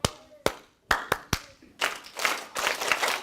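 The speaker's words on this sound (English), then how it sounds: "I'm going to clap a rhythm, and I want you guys to clap it back at me" A single person claps a short rhythm of four or five crisp, spaced claps, then an audience of children answers with a louder, ragged burst of many hands clapping the pattern back.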